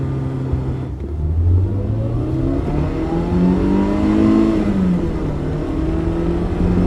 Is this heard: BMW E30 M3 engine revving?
yes